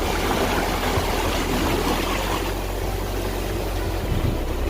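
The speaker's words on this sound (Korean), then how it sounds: "우리 잠시 바다의 해달과 파도 소리를 들으면서 쉬었다 가도록 하겠습니다" Ocean waves where sea otters live, a dense, steady wash of surf with a constant low rumble, loud and unbroken, with no distinct animal calls standing out.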